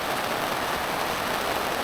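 Rain falls outdoors in hot, humid tropical weather, a dense, continuous hiss that stays loud and unbroken.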